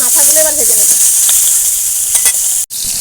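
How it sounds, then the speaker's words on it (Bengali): Hilsa fish heads fry in hot oil with a loud, continuous close sizzle and hiss, and a voice is briefly heard at the start. "আর মাথাগুলো এবার ভেজে নেব"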